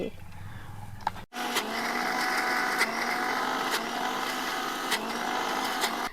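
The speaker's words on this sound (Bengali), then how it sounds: "এবার ডালটা আমি মিক্সিতে দিয়ে ভালোভাবে বেটে নেব একদম মিহি করে" An electric mixer grinder grinds soaked lentils into a fine paste for palak bora, starting abruptly after a short pause and then running as a loud, steady whirring whine with small bumps in its tone.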